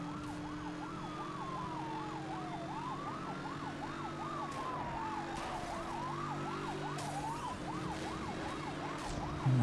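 A police siren wails in the Need for Speed video game, its rising and falling tone cycling steadily and loudly over a continuous engine and road drone throughout.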